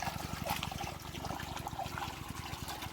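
Irrigation water flows strongly through a banana plantation during the dry season, a steady, close rushing and gurgling wash without pauses or voices.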